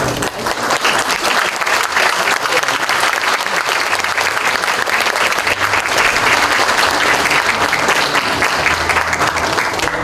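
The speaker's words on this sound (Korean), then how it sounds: "오늘 공로상을 수상하신 8분께 다시 한번 축하 박수 부탁드립니다." Congratulatory applause fills a hall at a university anniversary ceremony for eight award recipients, a loud, dense and continuous clapping from a large seated audience lasting the full ten seconds.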